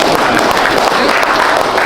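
A crowd of residents at a packed public event at Bale Pakuan breaks into loud, dense applause, a brief continuous wash of clapping with voices mixed in.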